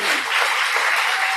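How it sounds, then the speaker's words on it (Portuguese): Applause for participants at an event in a library park, a dense crowd clapping steadily and loudly for a brief moment, with no separate voices standing out. "E uma salva de palmas para vocês!"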